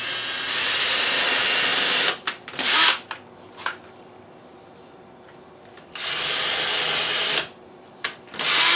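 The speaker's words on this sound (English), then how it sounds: "I'm going to pre-drill some holes here in preparation to driving the screws into it" Power drill boring pilot holes in pine wood for cabinet screws, two sustained whining bursts of steady drilling separated by short clicks and a quiet pause, close and loud with no talking.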